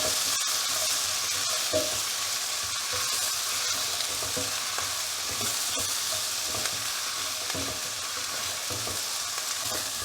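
Previously fried prawns stir-fried in a pan over high flame, a steady dense sizzle with scraping stir strokes throughout, close and continuous, no talking.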